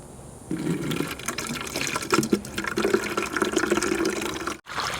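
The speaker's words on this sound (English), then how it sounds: "There's water coming out the bottom." Water drains from the petcock under the engine of a 1962 Chevrolet Bel Air wagon that sat for a decade, a steady close trickle and splash with a brief break near the end.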